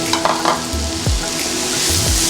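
Chopped celery cooks in a pot for leek and potato soup, sizzling steadily up close, with stirring scrapes and low knocks from the spoon against the pot.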